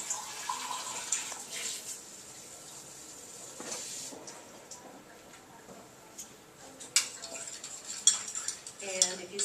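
A spoon stirs ordinary table salt into a glass of drinking water, giving faint, scattered clinks and taps against the glass over low background hiss.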